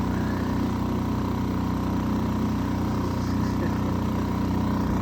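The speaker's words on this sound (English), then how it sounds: "That's why we brought a motorboat." The engine of a motorboat towing or powering an O'Day Javelin sailboat on Flagstaff Lake drones steady and close, a constant low hum with no break.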